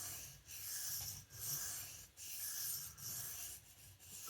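A knife blade is drawn along a sharpening stone in several steady, close rasping strokes, each separated by a brief pause, with no talking.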